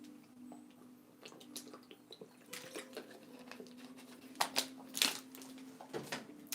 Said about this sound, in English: Let me get a drink of water here.